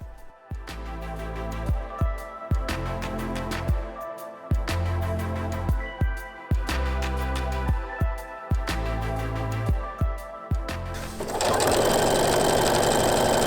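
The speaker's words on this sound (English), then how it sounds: "I'm just going to carry on sewing all the way down to the end." A sewing machine stitches down quilt binding in repeated bursts of whirring with brief pauses between runs, loud and close, no voices.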